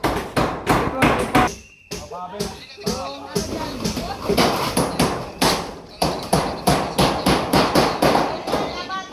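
Nails are hammered during a community house-building effort: a rapid, rhythmic series of loud, close blows with brief pauses, while people talk over the work.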